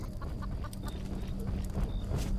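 A chicken in the Roblox horror game Devour clucks in short, repeated bursts over a low, steady background hum, sounding fairly close and moderately loud.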